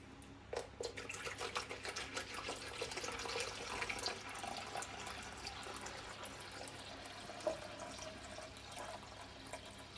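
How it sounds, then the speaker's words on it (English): Deionized water poured steadily into a jug, a continuous close trickling and splashing stream that holds for about ten seconds with no talking. "I am going to pour the deionized water into this jug"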